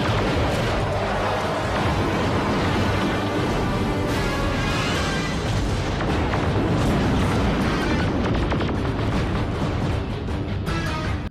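Spaceships trading fire in the Beast Wars cartoon: a dense, loud barrage of blaster shots and booming explosions that roars on without a break from start to finish.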